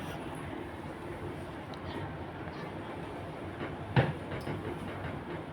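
A local passenger train rumbles steadily with broad low noise and a sharp clank about two-thirds through, heard from inside or close by.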